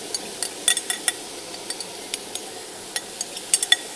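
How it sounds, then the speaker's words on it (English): Soft, steady sizzling of food in a pan, with scattered small clinks and taps over the quiet frying hiss. "And what we need to hear is that lovely little sizzle."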